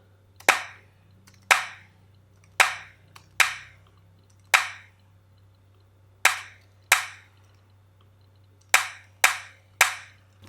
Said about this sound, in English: I actually want to layer that clap sound with another one